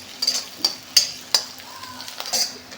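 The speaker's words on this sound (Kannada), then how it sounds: "ಚೆನ್ನಾಗಿ ಫ್ರೈ ಮಾಡ್ಕೊಬೇಕು." Onions frying in a pan for green chicken masala gravy, a soft sizzle under several sharp clacks and scrapes of a spoon stirring against the pan, close and fairly loud.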